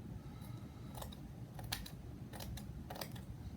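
Scissors snip off loose fibers and hairs from the edge of a printing block, several crisp, close cuts at uneven intervals over a low steady background hiss.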